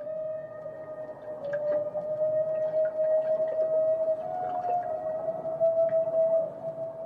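Humpback whales give hunting calls in an Alaskan strait: a long, steady tonal moan holds through the whole stretch with faint higher chirps above it, loud and continuous with no voices.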